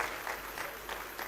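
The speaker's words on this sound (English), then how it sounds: "Let's give him a big round of applause" Brief round of audience applause at an economic summit in Anambra, a steady wash of clapping at moderate distance with no voices over it.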